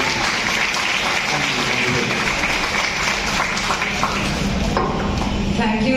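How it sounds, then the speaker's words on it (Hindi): Loud, dense clapping from an audience at a Delhi achievers' meet farewell event, continuous and steady throughout with a bright, crowded texture. "एक बार अपने लिए जोरदार ताली"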